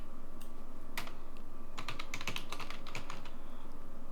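C code being typed on a computer keyboard, a short run of crisp, uneven key clicks at close range over a steady low hum, with no voice.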